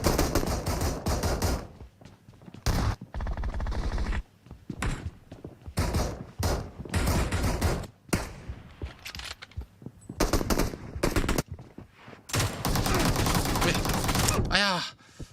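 Video-game gunfire from a shooting match rattles out in loud, sustained automatic bursts separated by short pauses, close and dominant throughout the scene.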